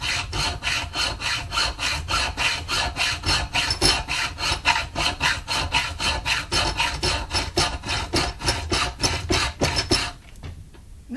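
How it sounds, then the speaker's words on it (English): A sander grinding metal on homemade axle pullers makes a loud, close, rhythmic rasping scrape in quick regular strokes for about ten seconds, then stops abruptly. "let me just take the sander and knock that off"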